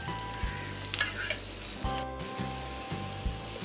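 Kappyache ghavane, a Kokan-style rice pancake with its filling spread on top, fries in a pan with a loud, close sizzle, punctuated by scraping and clinking as it is turned, over a low steady hum.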